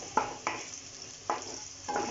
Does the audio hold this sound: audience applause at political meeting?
no